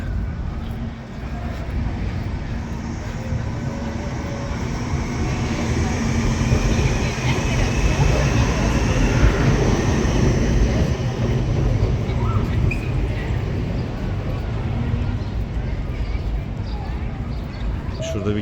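A tram rumbles past in Basel at steady loudness for a long stretch, its broad rolling noise swelling and fading, with a voice talking over it.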